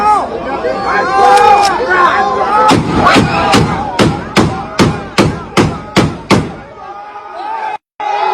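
Gunshot sound effect: a rapid series of about eight sharp, loud bangs in even rhythm, following a stretch of busy crowd-like noise, then a brief silence.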